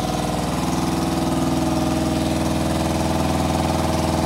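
A Yamaha Fazer 600 motorcycle engine idles with no air restriction, a steady, close, pulsing rumble that holds even throughout with no voices.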